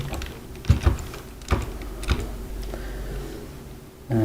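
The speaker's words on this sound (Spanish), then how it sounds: "Suministramos los puntos usando el teclado y el tabulador." Fingers type on a computer keyboard to enter points in FreeCAD, producing a few sharp, close key clicks spaced irregularly with quiet gaps between them and a louder tap near the end, with no talking.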